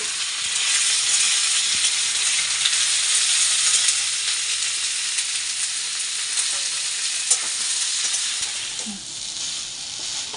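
Soybean chunks and spices fry in hot oil as potatoes go into the pan, producing a loud, continuous crackling sizzle up close, with occasional clinks of a stirring utensil.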